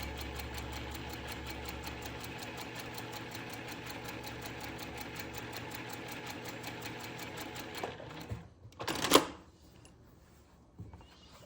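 A sewing machine runs steadily, stitching a quarter-inch seam down a quilt block with a short stitch length. The close, even hum lasts about eight seconds, then stops, followed by a brief rustle of fabric and a faint click.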